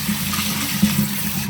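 Water rushes steadily and loudly while rinsing a cleaned deer skull in a tub, a close, continuous splashing flow.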